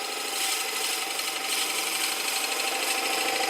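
A drill bit is fed slowly by a lathe tailstock into a spinning small wooden box, making a continuous bright, rasping scrape that stays close and steady without a break.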